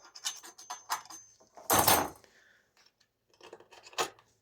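Metal scraping at the blade tips of a STIHL HS 45 hedge trimmer to clear sap build-up, a few short rasping strokes with one louder burst in the middle, close and quiet.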